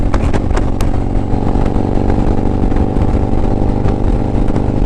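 A Harley-Davidson CVO Road Glide rumbles loud and steady at cruising speed in strong crosswinds, heavy engine drone mixed with wind rush throughout, heard from the rider's position.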